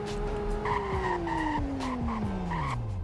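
A classic car in the Roblox Greenville game brakes hard, its engine tone sliding steadily downward while tires squeal and skid in repeated chirps, close and loud with no talking.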